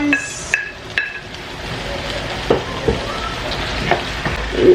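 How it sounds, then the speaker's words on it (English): Prawns drop into a pan for an eggplant sauce and sizzle at a moderate level, with several sharp metallic clinks and scraping stirs punctuating the steady frying. "So I'm going to be adding my prawns."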